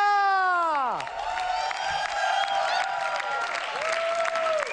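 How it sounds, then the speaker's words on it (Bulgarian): Crowd applause and cheering greet a pop-folk singer at a dinner-and-dance show, sustained clapping with whoops rising over a fading sung note and tonal music. "Моля вашите аплодисменти за секс-бомбата на поп-фолка!"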